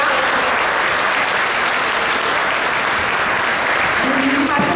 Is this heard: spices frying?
no